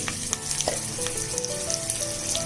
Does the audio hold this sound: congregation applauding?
no